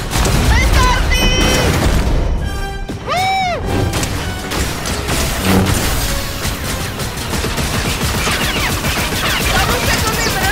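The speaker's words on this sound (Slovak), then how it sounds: "Petardy!" Firecrackers bursting in the video game Fortnite, a dense, loud, continuous crackle of pops and bangs running the whole time, mixed with game effects while players talk excitedly over it.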